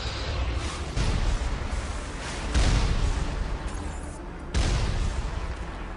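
Cannon fire from the Mako vehicle strikes Geth heavy turrets on a hillside in the Mass Effect video game. Dense, continuous rumbling booms swell in several bursts, loud and close.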